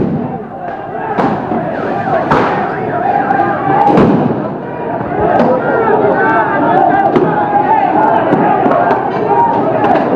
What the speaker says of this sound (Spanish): fíjense cómo se arrojan piedras y efectúan disparos.